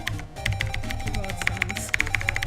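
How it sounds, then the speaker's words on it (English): Computer keyboard keys clack in quick, uneven bursts of crisp taps, close and fairly loud over a low hum, during a Megaman Battle Network 3: White speedrun. "Keyboard sounds."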